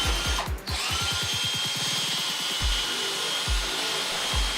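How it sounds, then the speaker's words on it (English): Power drill running in reverse with its chuck tightened on a helical wire, winding it out: a loud whirring motor with a rapid rhythmic thumping that slows and spaces out into a few separate knocks. "I just tightened the chuck down around the wire, threw it in reverse, hit the trigger"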